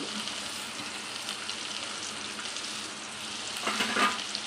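Onion, green chillies and curry leaves fry in a pan for an okra fry with a steady close sizzle, a few soft stirring scrapes near the end, and no one speaking.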